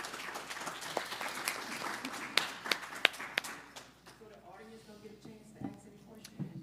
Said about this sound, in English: Help me give them a big round of applause.